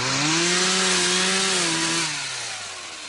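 A loud chainsaw engine cutting trees in wet mud whines at a steady high pitch, then drops lower and fades slightly as the cut eases off.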